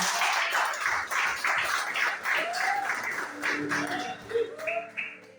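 A church congregation at an IPDA service claps to welcome the preacher, a dense but moderately quiet patter of many hands. A voice speaks faintly over the clapping toward the end.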